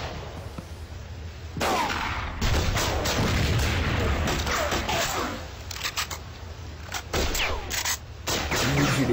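Rapid bursts of gunfire and booming explosions from the video game Mud & Blood 2, loud and dense for most of the stretch, with sharp bangs piling over one another.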